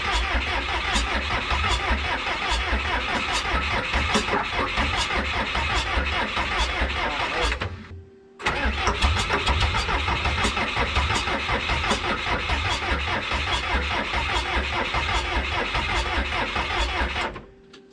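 Old 1986 Lull 644 Highlander II telehandler diesel engine that has sat unused for many years, cranked over by the starter in a long rapid rhythmic churn, briefly stopping near the middle and then resuming, loud and close with no voices.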